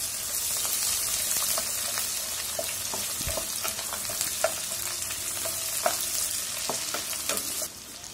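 Thick-cut onions dropped into a pan of oil with lightly fried whole garam masala spices, a steady close sizzle and crackle with scattered spitting pops, no voices, easing off near the end.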